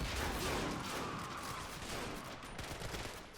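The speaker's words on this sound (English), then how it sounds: "they're even going to be putting some fire on the mortar position itself" Gunfire rattles around a mortar position during a World War II island battle in the video game Men of War, a continuous dense wash of shots and distant bursts, steady and fairly faint throughout.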